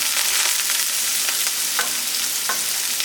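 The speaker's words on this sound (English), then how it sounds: "Same thing, medium high, little oil. Gonna add some yellow onion." Thinly sliced yellow onion frying in a little oil in a pan over medium-high heat, a steady loud sizzle with a few soft stirring scrapes.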